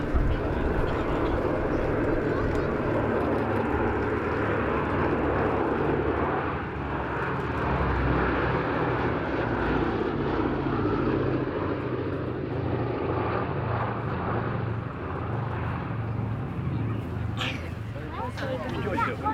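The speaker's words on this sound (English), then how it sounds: "B-17G flying fortress named Sally B" A B-17G Flying Fortress bomber passes at an airshow, its steady piston-engine drone filling the clip loud and continuous, with voices of onlookers mixed in beneath.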